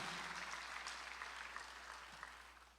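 A church congregation claps during a Korean Sunday worship service, a faint, steady patter of many hands that slowly fades out over a few seconds.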